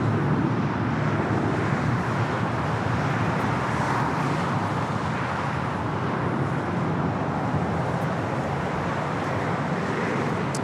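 JetBlue Airbus A321 taking off from Los Angeles International Airport, a broad, steady roar of jet engines heard from a distance and holding at an even level throughout, with no voices.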